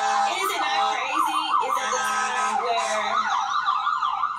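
An emergency vehicle siren wails loud and close, its rising and falling tone cycling steadily the whole time over a faint background murmur.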